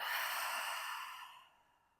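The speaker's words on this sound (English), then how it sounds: "take a deep breath in and let it out" A single long exhale during a yoga-style calming exercise, a soft airy sigh that fades out over about two seconds, close and alone.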